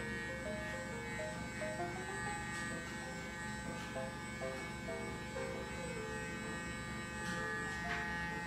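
A Clarisonic electric facial cleansing brush buzzes close by with a steady, unbroken motor hum that lasts the whole time.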